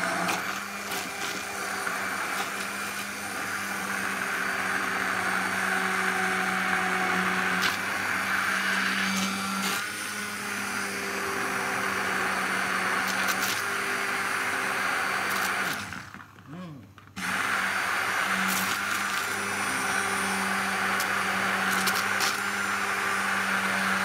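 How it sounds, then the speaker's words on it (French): Immersion blender whirring through watercress and potato soup in a home kitchen, a steady loud motor drone running throughout with a brief dip partway through as it is lifted or repositioned, no talk. "Je vais mixer la soupe."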